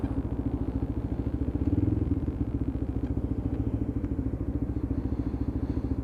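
A Lexmoto LXR motorcycle engine thrums steadily and loudly while riding, its pitch shifting briefly as the bike comes in hard and the front brake is pulled.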